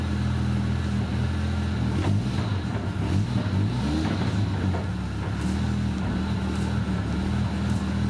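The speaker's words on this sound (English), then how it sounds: "The only horrible noises were coming from the gearbox, which is exactly what we wanted." A Toyota Cressida with a 548hp 1J engine drives in second gear, its steady engine drone and low rumbling gearbox noise running continuously throughout, with faint clunks from the gearbox.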